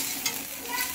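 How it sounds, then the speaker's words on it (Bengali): Leftover rice frying in a pan for breakfast, with a steady, close hiss of sizzling oil and a faint scrape of stirring. "এখন আমি বানাচ্ছি ব্রেকফাস্ট। সেটা হচ্ছে ভাত ভাজা।"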